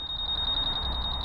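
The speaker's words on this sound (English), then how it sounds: "That's the alarm. It's not very loud," Factory alarm on a new Honda Super Cub C125 motorcycle beeps in a rapid, even pulsing tone, fairly quiet and continuous with low background noise.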